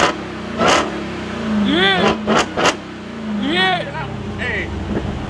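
A Dodge Hellcat's supercharged V8 revs in several sharp bursts nearby, each throttle blip rising in pitch with a whining climb and falling back, with people talking over it.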